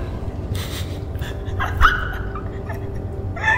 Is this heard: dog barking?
yes